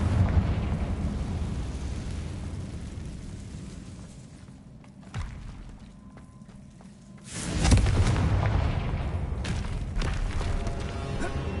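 A fire-blast spell from the Hogwarts Legacy video game erupts in a deep booming explosion, followed by a low rumbling roar and a second swelling blast that lingers in a dusty, echoing chamber.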